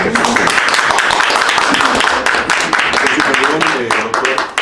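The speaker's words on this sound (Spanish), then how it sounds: "El aplauso." An audience applauds at a drug-free world event, steady clapping from many hands filling the room for several seconds with voices mixed in.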